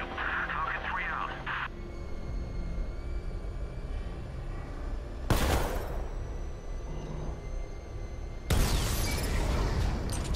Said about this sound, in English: Control, we have a militia explosion deployed near Grand Avenue